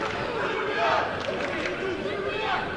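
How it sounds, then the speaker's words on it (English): Football crowd at Mourneview Park with a sizable contingent of travelling Serbian supporters: a steady, fairly loud roar of chanting and voices fills the stands with no break. "a sizable contingent of travelling supporters who are making their presence known here"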